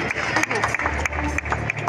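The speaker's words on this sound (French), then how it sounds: "On peut les applaudir," Audience applauding at a live in-store concert at an Auchan supermarket in Noyelles-Godault, with dense, continuous clapping and crowd noise and a voice over it.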